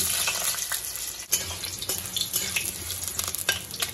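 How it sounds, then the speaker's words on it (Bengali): Potatoes frying in hot mustard oil in a wok give off a dense, steady crackling sizzle close by, with a few louder pops and spatters and no talking. "কড়াইয়ে আমি সরষের তেল নিয়ে নিয়েছি। সরষের তেল গরম হয়ে গেলে আমি এক এক করে সবজিগুলি ভেজে নেব। প্রথমে দিয়ে দেব আলু।"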